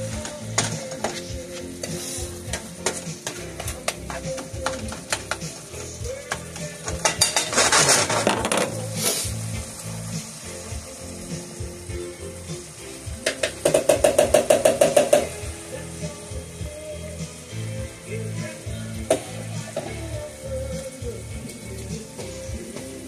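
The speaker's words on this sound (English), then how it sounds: "A little bit of onions and sauteed onions and hamburger." Onions and hamburger sauté in a pan with a constant close sizzle, punctuated by clattering utensil scrapes and bursts of rapid metallic stirring.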